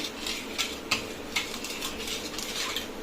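A spoon clinks against a metal vessel while stirring sugar into appam batter to dissolve it, giving light, irregular taps and scraping close by, with no talking.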